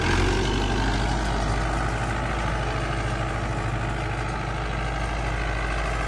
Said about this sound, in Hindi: वो सिर्फ जो है आगे से ट्रैक्टर चला रहे हैं और ब्लेड जो है खुद ऊपर नीचे हो रहा है।